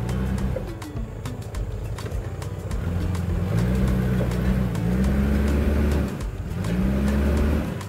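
An off-road vehicle's engine revs up and down repeatedly during off-road driving training in Medan, North Sumatra. The engine note is loud and close, with rising and falling pitch in several surges.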